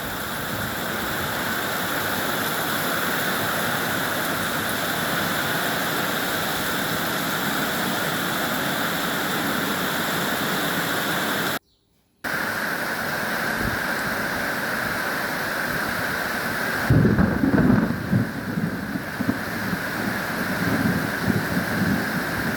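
Heavy rain pours steadily on a farm in rural Thailand, a dense roar broken by one brief cut, with low thunder rumbling near the end.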